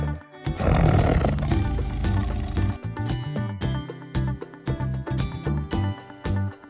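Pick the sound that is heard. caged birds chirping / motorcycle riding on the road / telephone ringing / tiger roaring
tiger roaring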